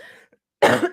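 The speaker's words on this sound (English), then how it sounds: "I always cough when things don't want me to say things" A single loud, harsh cough bursts out close to the mic after a brief trailing bit of voice and a short silence.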